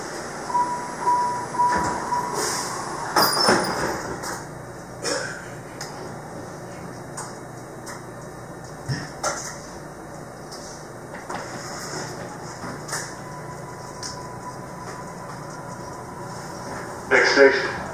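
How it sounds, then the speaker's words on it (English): A MARTA Red Line train runs with a steady, low interior rumble, occasional clunks and a few faint beeps, all fairly quiet. "This train is bound for Airport Station."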